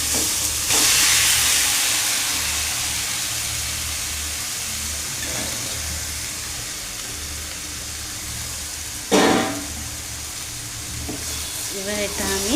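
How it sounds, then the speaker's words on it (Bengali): Chicken pieces hitting hot mustard oil with onions in a pan for chicken curry, a loud steady sizzle with a sharper burst of spitting midway, heard alone with no talk. "আমি এখানে পেঁয়াজ তেল ছেড়ে দিয়েছে, তো আমি এর মধ্যে এই মাংসটা দিয়ে দেব"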